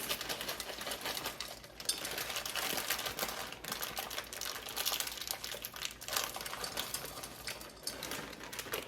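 Half a bag of chocolate chips tumbles out in a quiet, dry, rattling patter mixed with bag crinkling, close and continuous, while making brownie-bottom Rice Krispie bars.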